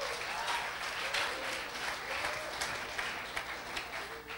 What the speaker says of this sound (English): let's welcome and give a round of applause to those that finished the course